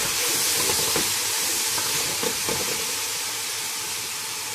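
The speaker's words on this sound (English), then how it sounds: "So we now add almost 6 to 7 tablespoons of yogurt. Just mix this and cook it for 3-4 minutes." Vegetables and yogurt for a vegetable biryani sizzle steadily in a pan on a medium flame, a loud, continuous hiss and crackle with no talking.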